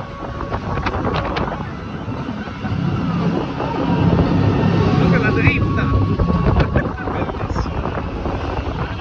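Helicopter rotor noise rumbles and swells steadily under a loud announcer voice and wind buffeting during a speedboat theme-park ride at Movieland.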